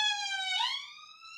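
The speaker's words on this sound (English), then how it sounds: "I don't know if you could hear that police siren." A police car siren passes outside, its loud harmonic wail sweeping upward midway and then holding a steady tone before easing slightly, with no talking over it.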